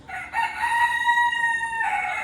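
A fancy-breed rooster crows once, loud and near, in a long drawn-out call that fades near the end, with faint clucking around it.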